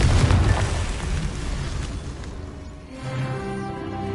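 A Confringo fire spell from Hogwarts Legacy bursts with a heavy boom that rolls off into a fading rumble, loud at first and settling into a lower background drone.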